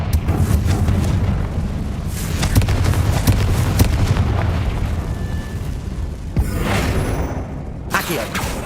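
A Confringo spell explosion in the video game Hogwarts Legacy: a loud booming blast with crackling bursts and debris, followed by more impacts and a sharp whoosh, with game ambience throughout.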